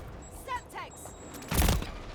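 A Semtex grenade explodes in Call of Duty MW3, a single loud, broadband burst standing out over background game sounds after some brief voice-like chatter.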